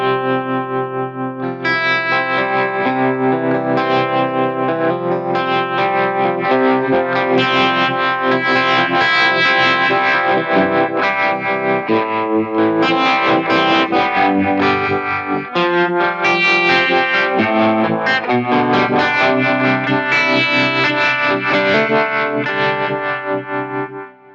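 An electric guitar runs through Fractal Audio effects switched with an MFC-101 foot controller. It plays sustained, distorted chords with chorus and echo, loud and continuous, and the tone shifts as the effects change.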